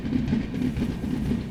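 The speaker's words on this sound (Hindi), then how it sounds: "पता नहीं क्यों ही ट्रेन स्लो डाउन हुई।" A passenger express train rolls slowly near Rajpura Junction, a low steady rumble with a soft rhythmic clatter of wheels over rail joints, heard from inside the coach with no talk.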